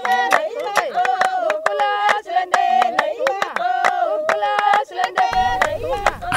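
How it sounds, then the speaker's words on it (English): Syncopated hand clapping with group chanting, steady rhythmic claps under a prominent sung line, close and loud throughout, ending with a low rumbling noise. "merging with their syncopated clapping and chanting"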